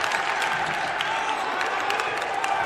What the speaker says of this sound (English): The crowd getting vocal as well.